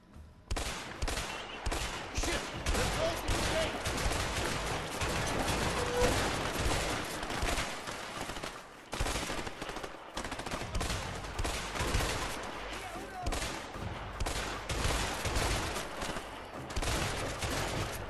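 Sustained gunfire in the video game A Way Out, rapid volleys of shots crackling almost continuously at steady loudness with only brief gaps.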